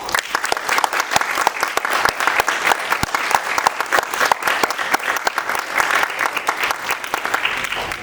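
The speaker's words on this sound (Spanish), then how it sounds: "Recibámoslo con un aplauso." Steady, dense applause from an audience greeting a speaker at a talk on space weather and the sun, many hands clapping continuously at a lively, even level for several seconds.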